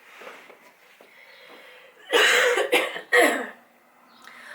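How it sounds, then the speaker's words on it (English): A short run of dry, tickly coughs, three quick bursts close to the listener, after some faint, quiet murmuring. "this little tickly cough's getting really on my nerves"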